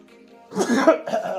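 A single harsh cough bursts out after a quiet moment, followed by a second rougher cough, close and fairly loud.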